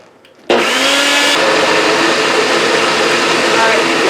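A Nutribullet Pro blender kicks on abruptly and grinds frozen blueberries into a smoothie bowl, a loud, steady motor whir with a gritty churning texture after a quiet start.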